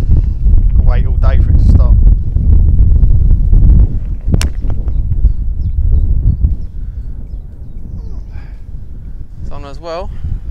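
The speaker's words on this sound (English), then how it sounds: "Wind's picking up." Wind on a golf course buffets the microphone in a steady, loud low roar that runs the whole way through, while people talk over it.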